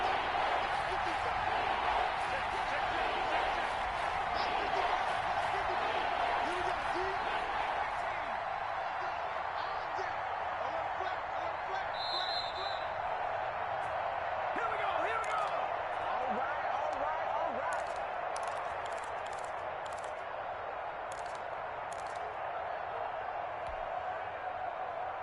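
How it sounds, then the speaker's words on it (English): Stadium crowd noise in the Madden 21 video game, a steady loud roar of a large crowd that continues throughout, with a commentator talking over it. "That just means this crowd's going to get even louder."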